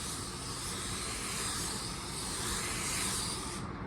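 A spray gun lays black base coat paint across a car hood as a steady, close, hissing airy spray that runs without a break until it stops abruptly at the end.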